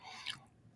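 Salty, crunchy food being chewed close to the mic during a mukbang, with one brief crisp crunch standing out over a low, quiet background.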